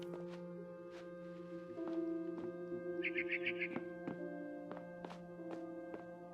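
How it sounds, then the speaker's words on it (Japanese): A barn swallow chirps outside a window in What Remains of Edith Finch, a short, faint burst of rapid chirps over sustained tonal game music and soft thuds. "Then I heard chirping outside my window."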